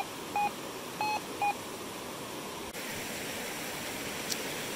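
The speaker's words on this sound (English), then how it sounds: "a little beep here in the water, pretty consistently giving me a non-ferrous reading." Three short electronic beeps from a metal detector in quick succession, giving a non-ferrous reading in a river, over a steady wash of rushing water-like noise, then only the hiss continues.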